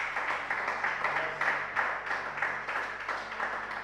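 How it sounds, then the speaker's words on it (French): A church congregation applauds after a French-language sermon on anger, a steady, moderately loud wash of many hands clapping with slight swells, continuing for several seconds without speech. "Est-ce qu'on peut applaudir la parole du Seigneur?"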